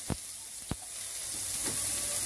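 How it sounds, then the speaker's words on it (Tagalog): Chopped garlic and ginger hit hot oil for a chicken tinola soup, opening with two sharp clattering knocks before a soft, steady sizzle rises and holds, fairly quiet, with no talking. "Lagay ko na yung bawang. Lagay ko na din yung luya."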